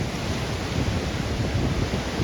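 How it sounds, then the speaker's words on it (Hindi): Swollen river in flood in Kullu-Manali after days of heavy rain, a dense continuous roar of rushing water with wind buffeting the microphone, loud and unbroken with no speech. "इतना तेज पानी का फ्लो है"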